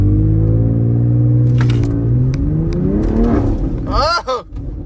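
Turbocharged S58-powered BMW M SUV revving hard in a launch, a loud rising engine roar that surges then drops off, with short voices near the end.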